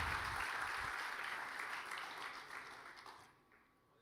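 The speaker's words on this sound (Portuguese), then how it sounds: "Você pode aplaudir a Jesus?" A church congregation applauds during a service, sustained dense clapping from a large crowd that holds steady for about three seconds, then fades out quickly.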